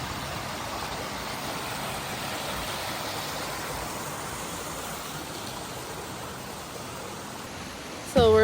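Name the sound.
rushing water of a waterfall near Donaldson Cave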